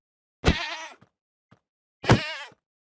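Two sharp, loud screaming goat hurt bleats from Minecraft, each about half a second, separated by a gap with a couple of tiny clicks, no talk.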